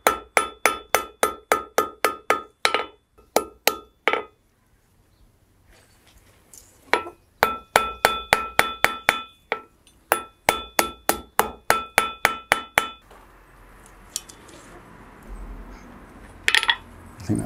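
Rapid, ringing hammer blows on hot steel while forging an arrowhead come in quick bursts of a dozen or so strikes, pausing briefly between runs, loud and close.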